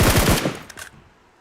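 Rapid bursts of automatic gunfire in the video game BGMI, loud and close, with several quick volleys packed into the first second before trailing off into a fading echo.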